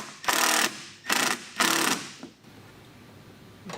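Power tool tightening mud flap fasteners on a BMW 328i E93 convertible, three loud mechanical whirring bursts of about half a second each, followed by a short click and quiet background.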